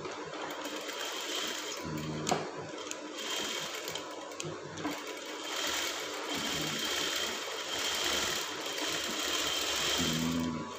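A sewing machine stitches a Shanghai collar onto brocade fabric, humming in a steady, close, continuous run with small shifts in speed and no talking.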